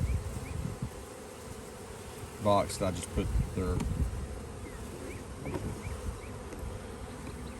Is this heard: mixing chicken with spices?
no